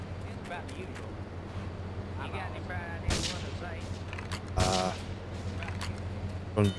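Tank cannon blasts in Grand Theft Auto 3, two loud booming shots standing out over steady game noise and engine hum, with a voice talking throughout.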